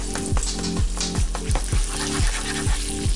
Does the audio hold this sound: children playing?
no